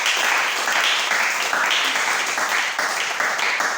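A church congregation applauds throughout, a dense, steady wash of clapping at close range with no gaps and no clear speech over it.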